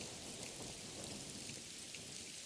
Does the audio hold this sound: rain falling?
yes